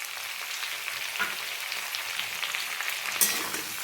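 Chopped tomato with ginger paste sizzling in a pan for a vegetarian drumstick-and-potato dish, a steady broadband hiss with faint stirring scrapes and one brief clink near the end, no talking.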